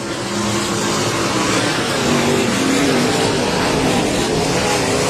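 Sprint cars in a Bandit Outlaw Sprint Series race at Heart O' Texas Speedway make a loud, continuous engine roar, several cars blending into one dense, sustained snarl with slight swells as they power around the track.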